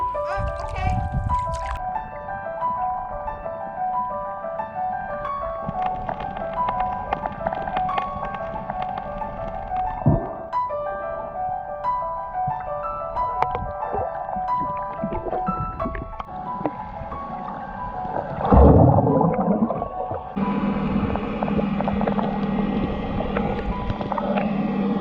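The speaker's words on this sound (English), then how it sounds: "Lisa, you want to start the engines?" A sailboat's engines start partway through with a sudden rumbling surge, then settle into a steady, close mechanical drone. Tonal hums and watery sounds come before it, on a sail from Staniel Cay to Andros.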